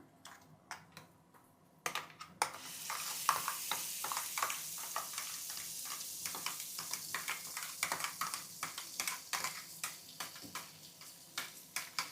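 A quiet sizzle bursts into loud frying as tamarind chutney is added to the tempering, followed by irregular scraping and stirring clicks against a pan.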